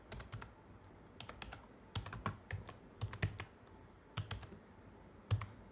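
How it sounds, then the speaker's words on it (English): Keys clatter on a computer keyboard while a project name is typed during a Python calculator coding session, a quiet close series of uneven clicks in short bursts with brief pauses, no voices. "then I will type the name, which will be simple"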